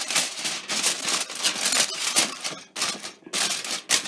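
Aluminum foil crinkles and crackles in repeated loud, close bursts as it is wrapped over a dish of tacos al pastor, with brief pauses between handlings.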